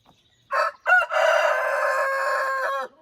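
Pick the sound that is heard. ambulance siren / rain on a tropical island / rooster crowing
rooster crowing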